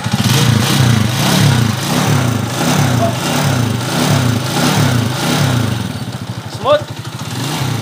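A motorcycle with an aftermarket-sounding exhaust idles and revs steadily up close, loud and continuous, its throbbing pulses easing near the end; someone speaks briefly over it.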